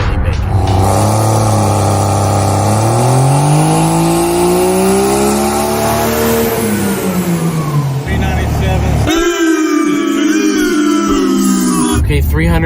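Truck engine runs hard on a dyno ahead of a turbo upgrade, its roar climbing steadily in pitch through a long pull, then dropping off and revving again, loud and close with a voice speaking over it.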